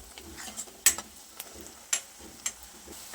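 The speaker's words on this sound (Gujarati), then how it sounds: "ડુંગળીને વચ્ચે વચ્ચે આ રીતે હલાવતા જઈશું અને શેકાવા દઈએ" Onions fry in a pan with a faint sizzle, while a spoon scrapes and taps the pan at irregular intervals, close and fairly quiet.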